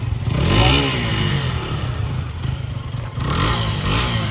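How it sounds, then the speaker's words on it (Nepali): A motorcycle engine runs loud and close, its pitch swelling as it revs and then settling before rising again. "त्यहाँ बाइक चलाउनु लागेको छ"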